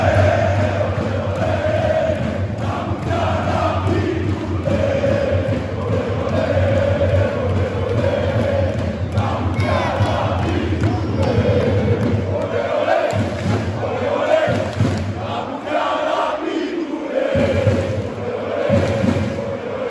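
Football fans at a stadium in Romania chant and cheer as one loud, dense crowd, a steady roar of massed voices that rises and falls in rhythmic swells throughout.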